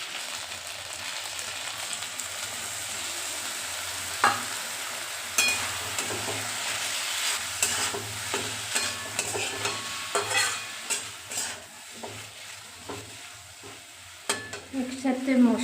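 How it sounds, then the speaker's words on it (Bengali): Chickpeas and potatoes fry in a pan with cumin, coriander, dried red chilli and turmeric powders, giving a steady sizzle broken by scraping, clattering stirs that grow more frequent and louder toward the end. "একসাথে মশলাটার সাথে চানাটাও দিয়ে দিচ্ছি, একসাথে এটা কষে যাবে চানাটা মশলার সাথে, আলুর সাথে"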